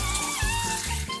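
Water running from a tap into a mixing container to form a homogeneous paste of betta fish food, a steady close pour lasting just over a second.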